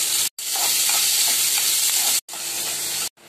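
Onion fries in a pan for red amaranth greens cooked with cumin, green chili and garlic, giving a loud continuous sizzle with soft stirring scrapes, cut by two brief silent gaps.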